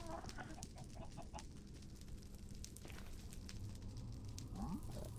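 Chickens in the Minecraft video game give a few faint clucks over a steady low rumbling background, brief and sparse.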